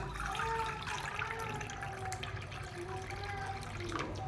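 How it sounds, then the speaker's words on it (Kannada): Water pours steadily into a pot of sugar in a home kitchen, making a continuous running splash with no talk, as syrup is started for a Diwali sweet. "ನೀರು ಹಾಕ್ತೀನಿ"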